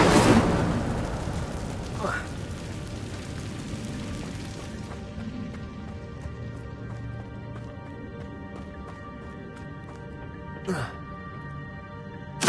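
The Incendio fire spell is cast in Hogwarts Legacy on PS5, a loud burst of flame at the start that fades into a crackling, decaying whoosh, followed by softer spell effects and faint background sounds.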